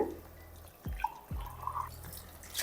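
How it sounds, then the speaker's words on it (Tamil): Water poured from a tumbler into a mixer jar while making tomato rice, heard as a couple of short splashing drips and trickles close by, fairly quiet, with no talking. "மூன்றரை டம்ளர் அளவுக்கு தண்ணி ஊற்றிக்குவோம்"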